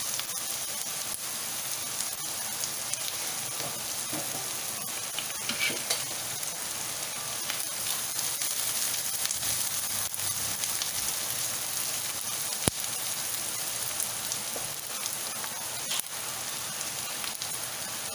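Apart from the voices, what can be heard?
sautéing bay leaves and spices in a pan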